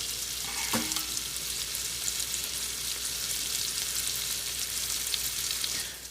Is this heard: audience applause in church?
no